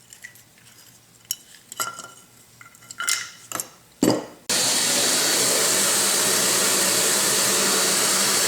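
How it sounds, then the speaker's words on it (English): A vacuum cleaner runs steadily and loudly, cleaning debris out of the electric drive motor of a Yates American B244 machine, after a series of scattered clanks and handling knocks. "I've been vacuuming all kinds of stuff out of this motor"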